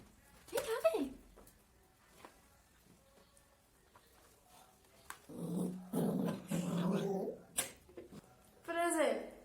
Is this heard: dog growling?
yes